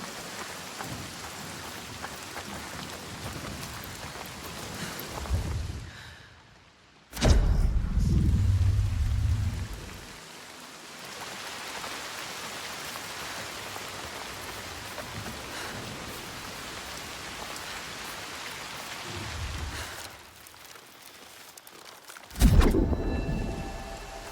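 A storm in the Hellblade II video game: steady heavy rain washes throughout, broken by two loud, deep rumbling thunder cracks, the first about a third of the way in and the second near the end, with no speech.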